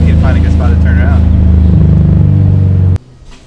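A straight-piped Honda S2000 misfiring on one cylinder from a loose coil pack clip, its loud, uneven, choppy idle rumble sounding like a four-stroke dirt bike, close up, cutting off abruptly near the end.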